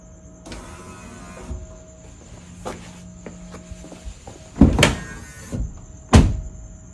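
A new pickup truck door opens with an instant electric release, giving soft mechanical whirs and clicks followed by a couple of sharp latch thunks near the end, with no talking.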